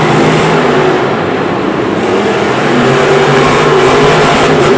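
Monster trucks Gravedigger and Scooby-Doo race side by side at Monster Jam Singapore, a steady, loud, dense engine roar with no letup.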